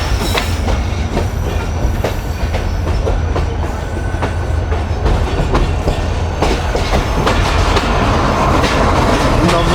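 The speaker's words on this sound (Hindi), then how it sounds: "बड़े मज़ेदार ट्रैक सॉन्ग के साथ ट्रेन अप्रोच बना रही है कानपुर में भाई" A container train rolls into Khanpur Junction, its wheels beating a steady clickety-clack over the rail joints, loud and close with a continuous heavy rumble throughout.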